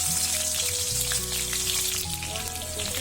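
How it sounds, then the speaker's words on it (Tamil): Spring onion whites fry in a hot pan for Schezwan noodles, giving a loud, close, continuous sizzle that crackles steadily throughout. "ஸ்ப்ரிங் ஆனியனில் பின்னாடி ஆனியன் இருக்கும் இல்லையா, அதில் வந்து கொஞ்சமாக நான் இப்படி போட்டுக்கிறேன்"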